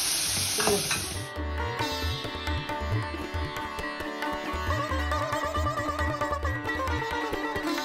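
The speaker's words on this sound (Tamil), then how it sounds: "மிளகா, கடுகு, பச்சை மிளகாய் போட்டு வதக்கி மிளகா வத்தலையும் போட்டு இதை போடுறேன்" Tomatoes with red and green chillies and mustard seeds sauté in hot oil for a rasam, a steady sizzle with a spoon stirring through it, while loud music plays over everything.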